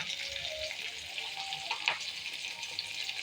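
An idli dish frying in a pan and being stirred, a soft continuous sizzle with scraping stir strokes, fairly quiet and close, no talking.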